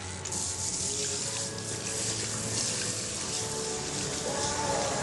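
Tap water running steadily while hair is rinsed at a salon sink during a balayage colour service, a continuous close rushing stream with no talk over it.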